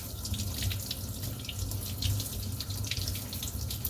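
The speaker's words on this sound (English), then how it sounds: "And give it a good rinse." Running tap water splashing steadily into a sink while a vintage Barbie doll is rinsed, a continuous close gushing with small irregular splashes and no talking.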